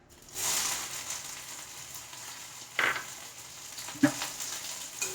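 Chopped small onions frying in hot coconut oil in a pan sizzle steadily after a sudden burst at the start, with a few sharp clinks of a spoon or pan over the continuous crackle.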